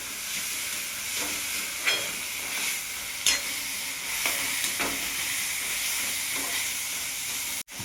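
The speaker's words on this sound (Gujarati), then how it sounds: "હવે આપણે થોડું લસણ શેકાવા લાગ્યું છે" Garlic and green chillies sizzling as they roast in a pan for lilva kachori filling, a steady close frying hiss with occasional spoon stirs and scrapes.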